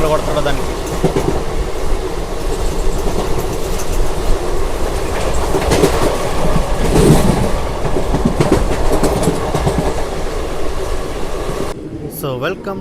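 An SF Express passenger train runs steadily on rails after leaving Cheerala station, with a continuous loud rumble and rhythmic clickety-clack of wagons throughout, and a voice talking over it.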